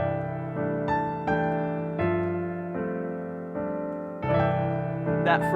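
Piano playing the opening of Silent Night, beginning on a C6/9 chord, a slow sequence of sustained chords struck one after another, close and gently voiced, with no talking.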